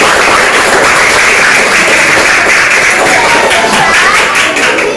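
A classroom of schoolchildren claps their hands together in a dense, continuous patter, loud and close, holding steady for several seconds without pause.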